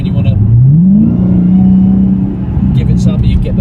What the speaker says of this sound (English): you get the whir of the supercharger working, the roar of the exhaust